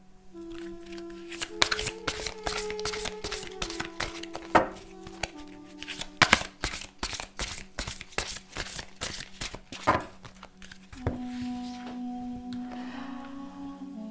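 Tarot cards shuffled by hand in rapid riffles and snapping flicks, close and crisp, the bursts repeating in quick irregular runs over a faint steady hum.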